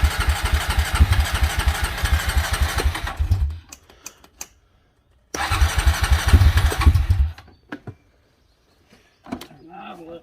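A Honda four-wheeler ATV with a replaced carburetor cranks and chugs into a rough idle twice, each run stalling into silence after a few seconds; loud and close, with a brief voice near the end.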